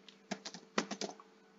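Close, quick keystrokes on a computer keyboard as Python code is typed, a short irregular run of clicks and taps that then trails off into quiet.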